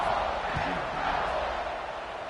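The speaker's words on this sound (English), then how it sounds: "this crowd is feeling themselves after that last drive" A football stadium crowd at a college game between Florida and Ole Miss roars and cheers in a broad, sustained wash of noise after a touchdown drive, steady and loud for the whole stretch.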